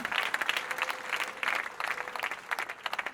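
Congregation applauding at a Sunday church service, a dense steady patter of many hands clapping close by for the full stretch, with no talk over it.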